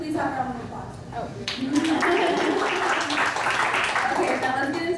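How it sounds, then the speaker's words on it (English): Audience members at a town hall meeting break into applause, scattered clapping swelling into a fuller round that carries on for several seconds with some voices underneath. "Can we please have a round of applause?"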